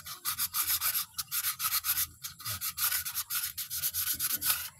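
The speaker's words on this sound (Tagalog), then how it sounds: "Liyang pino po ang gagamitin nyo." A fine file rasps in quick, rhythmic back-and-forth strokes to scrape rust from inside a brake part's socket, sounding close and gritty with no talk over it.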